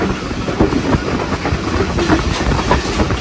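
A passenger train runs along the track as it arrives at Khanpur railway station, with loud, steady rumbling and rhythmic clickety-clack of the wheels throughout and no talking.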